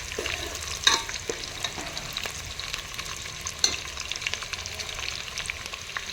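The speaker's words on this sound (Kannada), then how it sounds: "ಉಳ್ಳಾಗಡ್ಡಿ ಬ್ರೌನ್ ಕಲರ್ ಬರೋವರೆಗೂ ಇದನ್ನ ಫ್ರೈ ಮಾಡ್ಕೋಬೇಕು" Onions frying until brown for village-style chicken biryani, giving a continuous crackling sizzle with a couple of sharp utensil clinks against the pan, steady and close throughout.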